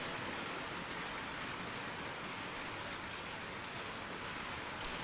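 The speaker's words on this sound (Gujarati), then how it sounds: "અમદાવાદમાં પણ અચાનક જ ધૂળની ડમરીઓ સાથે વરસાદે એન્ટ્રી લીધી છે" Dense, steady hiss of rain falling on surfaces in Ahmedabad, India, even and unbroken throughout, faint with no voices.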